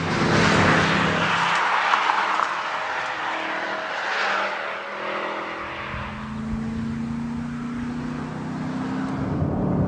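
A Chevrolet Camaro ZL1 driving, engine noise strong at first, easing briefly, then climbing again as a rising revving tone under continuous road roar.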